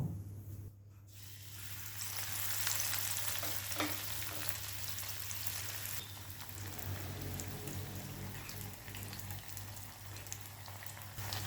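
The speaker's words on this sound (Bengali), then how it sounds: "কড়াইতে আমি অল্প পরিমাণ সাদা তেল নিয়ে নিয়েছি এবার পাউরুটিগুলো ভেজে নেব" Bread pieces frying in a small amount of white oil in a wok, a continuous bright sizzling hiss that stays fairly even and close throughout, with no voices.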